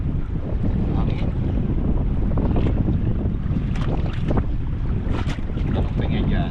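Wind at sea buffets the microphone on a small boat while fishing for grouper, a loud, constant roar with gusty bursts and no pauses.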